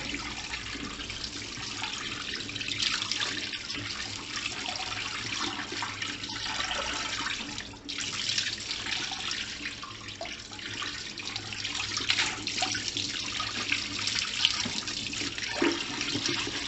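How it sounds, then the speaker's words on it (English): Water runs steadily from a tap and splashes over a BMC air filter being rinsed, a continuous hiss with small shifts in flow. "Flip it over, then again run some water."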